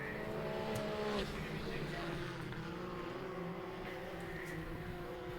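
A Pro Mod SXS side-by-side race car runs laps on a dirt track, heard from inside the cab as a steady, buzzing engine drone with a gear-change dip, faint and mixed with a commentator talking.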